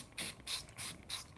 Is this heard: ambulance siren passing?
no